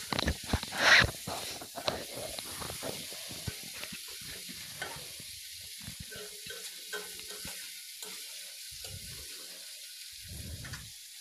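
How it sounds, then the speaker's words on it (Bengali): Chicken pieces sautéed with spices including cumin powder in a pan, loud sizzling with repeated scraping stirs that ease into softer frying toward the end. "দিয়ে আবারও মাংসটা কিছু সময় কষিয়ে নেব।"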